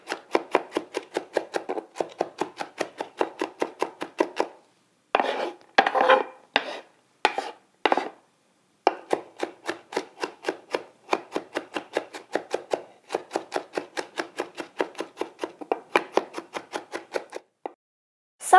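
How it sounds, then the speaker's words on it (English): Knife rapidly mincing onion on a cutting board, a steady run of quick close chops broken by short pauses and a few slower, heavier strokes, with no talking. "just pivoting it in a fan motion, mincing that onion"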